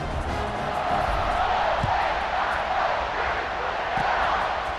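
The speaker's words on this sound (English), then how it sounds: "this crowd is buzzing after that last score" Stadium crowd at a college football game, a broad, steady murmur of many voices, with a couple of brief louder shouts rising out of the din.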